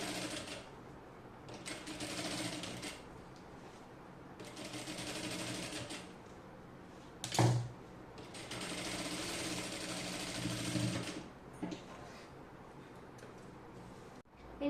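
A sewing machine stitches the lining around the back neck of a dress in several steady, buzzing runs separated by short pauses, with one sharp knock midway.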